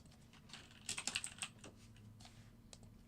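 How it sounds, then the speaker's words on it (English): Typing on a computer keyboard positioned beneath a microphone during live algorithmic trading on NinjaTrader, a quick burst of clicky keystrokes in the first second and a half, then scattered lighter taps over a quiet room hum. "I'm going to be typing again."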